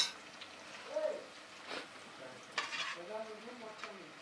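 Garlic-ginger paste fries in a pan with a soft sizzle, broken by scraping stirs and light utensil clinks against the pan. The sound is fairly quiet and close.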